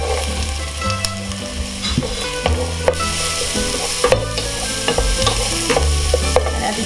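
Onions and carrots frying in oil in a pan, a constant bright sizzle broken by repeated knocks and scrapes of a spoon stirring against the pan.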